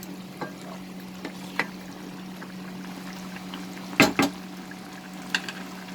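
Fried prawns stirred into a sponge gourd curry in a pan, with a low steady sizzle under a few sharp spoon scrapes and knocks against the pan, the loudest pair near the middle.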